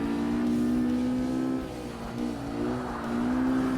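A race car engine in Forza Motorsport on the Xbox drones steadily at high revs, dipping briefly as if shifting or easing off before climbing again, loud and continuous with a slightly compressed, low-fidelity tone.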